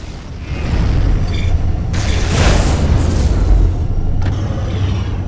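Deep booming missile explosion in the space combat game Rebel Galaxy, a heavy low rumble swelling and rolling over several seconds with a brighter burst near the middle, loud and close, no talking.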